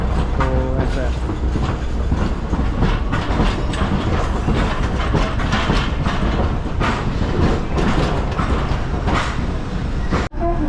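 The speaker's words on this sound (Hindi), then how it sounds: "ऐसी कुछ दिखती है स्ट्रीट कार" Hiroshima streetcar running with a steady loud rumble and rhythmic rail clatter throughout, heard from on board or close beside the tracks, with no talk over it.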